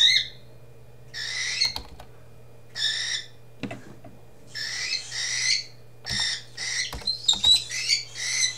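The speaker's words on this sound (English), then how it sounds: "Birds are fighting." Birds squabbling, heard as bursts of harsh, high chattering squawks and whistles in irregular clusters, with brief clicks between, over a steady low electrical hum and no talk.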